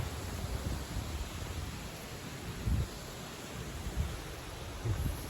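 Steady night wind of around 60 km/h in autumn, a continuous low rushing hiss broken by a few short gusts, with no voices present.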